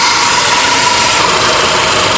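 A Chevrolet Trax engine idles with its air-conditioning compressor engaged during an AC repair check, a loud, steady close-up drone with a constant mechanical whir and no talk.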